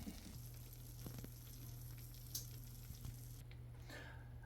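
Corn and cheese enchiladas sizzle hot from the oven, a soft steady crackle and hiss with a low hum beneath, a few faint clicks scattered through.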